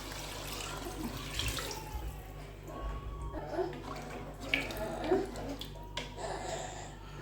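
Water poured into a pot of rice for chicken kabsa, a continuous close splashing and trickling stream with faint background sounds.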